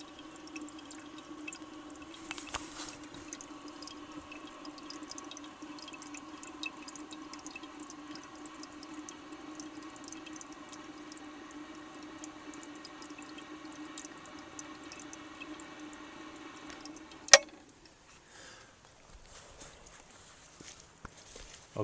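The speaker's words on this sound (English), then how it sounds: "The second I flush the toilet, I'm going to turn the water back on over here." A 1933 Standard Modernus toilet tank refilling after a flush, a faint steady hiss of running water with small drips, ending in a sharp click near the end and quiet afterward.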